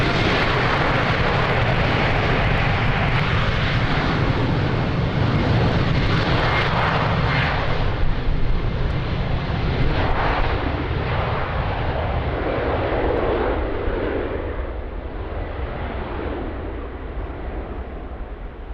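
A jet airliner roars on takeoff at Lisbon Airport on a windy day, a loud, broad continuous engine rumble that slowly fades as the aircraft climbs away.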